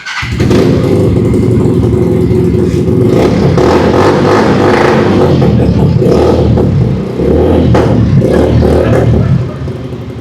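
A heavy cruiser motorcycle engine runs loud and close, revving steadily with a rough, throaty rumble that holds for several seconds and dips briefly before continuing.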